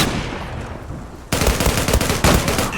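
Gunfire in the online shooter Zula. After a quieter stretch of ambient game noise, rapid automatic shots burst in and continue as a dense, loud volley until the end.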